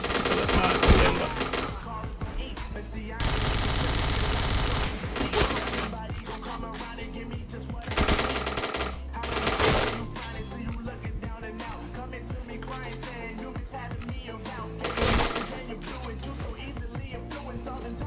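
Gunfire in a multiplayer shooter game, with several dense bursts of automatic fire, the longest lasting about two seconds, plus scattered single shots. Game sounds continue between the bursts.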